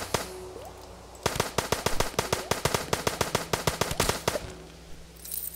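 Rapid gunfire in the Starbound video game: a dense, steady burst of sharp shots runs for about four seconds after a brief lull, loud and close, with no talking over it.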